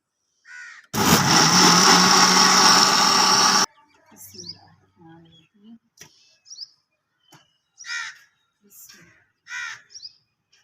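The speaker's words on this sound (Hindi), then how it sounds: "अब हमने स्प्राइट डालने के बाद इसको अच्छे से जो है ब्लेंड कर" A blender whirs loudly for about three seconds, mixing mint lemon sharbat with Sprite, then cuts off abruptly, followed by a few crow caws outdoors.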